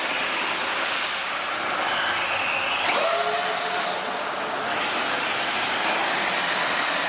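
A Traxxas UDR RC truck drives past on tarmac, its electric motor whine rising and falling as it sweeps close by midway through, over a steady broad rushing noise, with no talking.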